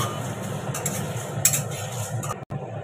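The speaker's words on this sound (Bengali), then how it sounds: "জিরে, ধনে, মৌরি, তেজপাতা, শুকনো লঙ্কা, গোটা গরম মশলা আর গোলমরিচ একসঙ্গে শুকনো খোলায় ভেজে নিচ্ছি।" Whole cumin, coriander, fennel, bay leaf, dried chilli, whole garam masala and peppercorns rattle and scrape in a dry pan, with a few sharp utensil clinks over a low steady background.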